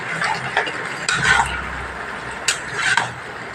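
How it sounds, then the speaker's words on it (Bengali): Mixed vegetables are stirred in a pan with a roasted ground mix of dry red chili and bay leaf. A spoon scrapes and clinks against the metal in a few distinct bursts over a low background hiss. "মশলার সাথে ভালোভাবে কষিয়ে নেব"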